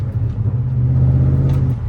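BMW E39 540i with freshly overhauled brakes cruising on the road, a steady low engine drone and road rumble holding throughout at close range, with no talk.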